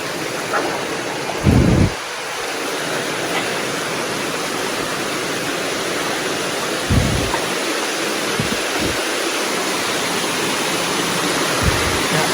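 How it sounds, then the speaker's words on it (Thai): Steady broadband rush of falling water at a waterfall inside a cave fills the whole clip, with a few low thumps and knocks cutting through now and then. "ตัวนี้ก็คือน้ำตกเนี่ยเราลุยน้ำตกมา"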